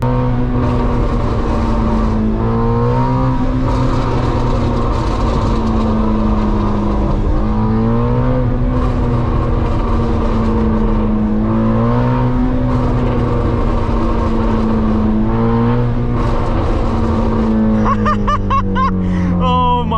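A Ford Mustang GT350 revs its engine repeatedly, close and loud, in rising and falling surges with a deep exhaust drone underneath. Near the end, a rapid, crackling burst of backfire pops breaks through.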